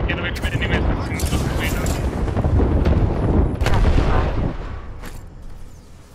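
Airstrike explosions boom in Apex Legends, a dense, loud barrage of blasts and rumbling impacts rolling on for several seconds before easing off, with voices faintly present.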